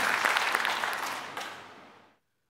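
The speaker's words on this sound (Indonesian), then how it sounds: "Tepuk tangan bagi Tuhan." Church congregation clapping together, a dense burst of applause that fades out steadily over about two seconds and then stops.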